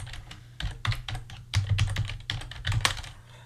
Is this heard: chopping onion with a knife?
no